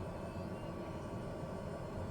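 Steady, even roar of a light aircraft's turbine engine running at high idle, a dense unbroken whine and rush with no talking.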